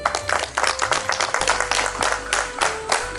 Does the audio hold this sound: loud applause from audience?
yes